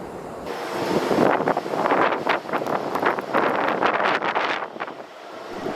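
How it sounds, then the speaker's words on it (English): A Lufthansa A340-600 airliner rumbles past during plane spotting after rain, a broad roaring wash that swells and fades over several seconds, mixed with wind buffeting on the microphone. "This aircraft, a Lufthansa A340-600"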